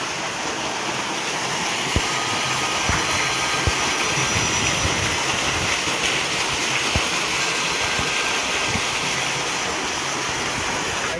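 Water gushes steadily from a 4-inch delivery pipe fed by a 3 hp solar submersible pump in a bore, a loud, continuous close-up rush with a few faint knocks and no talk.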